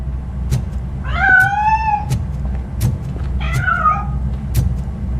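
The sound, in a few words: cat meowing in a video game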